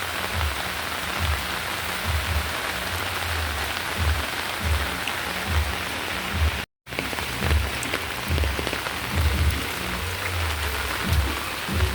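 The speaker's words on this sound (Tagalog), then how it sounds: "yan, lakas ng ulan, no?" Heavy rain pours steadily onto surfaces in Los Baños, a dense continuous hiss and patter with low rumbling underneath and no voices.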